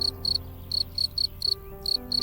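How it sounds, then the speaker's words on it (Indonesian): A cricket chirps in short, bright trilled bursts, about eight pulses in quick, slightly uneven rhythm, close and clear over a faint steady hum. "Pada tahap ini, jangkrik sudah memiliki sayap dan mampu menghasilkan suara."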